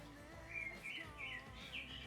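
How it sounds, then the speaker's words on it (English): Birds tweeting at night: a few faint, thin chirps rise and fall over a quiet background, with no one speaking. "You can hear the birds tweeting."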